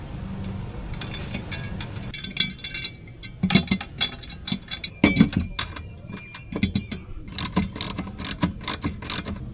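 Ratchet wrench tightening the bolts of a golf cart grab bar and trailer hitch, rapid clicking bursts repeated in quick strokes with metallic clinks, close and loud, with no talk.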